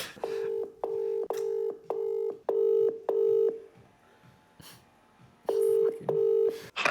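A desk telephone dials out to a gold dealer, keypad tones giving way to a repeated ringback: steady paired tone bursts of about half a second each, six in a row, a pause, then two more, clear and close.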